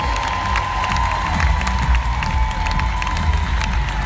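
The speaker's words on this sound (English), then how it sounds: "Let's give a round of applause to Mary as she comes to the stage." A big conference crowd at a sales-milestone recognition event in Orlando claps and cheers as an honoree comes to the stage, a loud continuous roar of applause mixed with whoops and shouts, with music faintly underneath.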